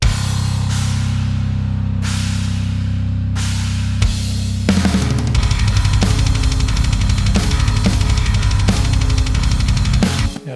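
Guitar and bass tracks play a metal riff, opening with held heavy chords and cymbal washes, then breaking into a dense, fast driving riff with steady pulsing hits, loud and continuous with no talking.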